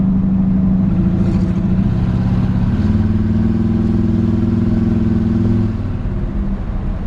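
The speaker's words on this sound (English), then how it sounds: "Crisp shifting engine, the way the transmission's tuned right now, and it just shifts now nice and smooth and crisp." A 1956 Ford F100 truck engine drones loud and close, its pitch stepping down and settling as the transmission shifts smoothly through gears, with no talking.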